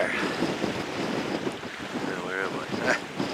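Ocean waves and gusting wind, recorded outdoors with heavy wind buffeting on the microphone over a continuous rushing surf, fairly loud and steady.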